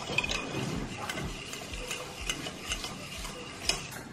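Brownie batter being stirred by hand after a cup and a half of sugar goes in, a steady run of soft scraping and clicking strokes close by with no talking.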